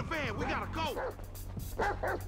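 Lamar's dog in GTA 5 gives a few short yelping barks up close, mixed in with steady talking and game background noise.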